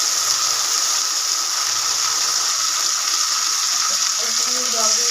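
Water hits a pan of fried red onion and spicy mustard paste, giving a loud, continuous hissing sizzle and rushing wash that runs steadily throughout, with faint voices underneath.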